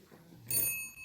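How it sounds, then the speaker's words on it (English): Single strike of a warning bell signalling a speaker's time limit at a speech event, one bright ring that rings out and decays over about half a second. "a warning bell will be sounded at the end of 3 minutes."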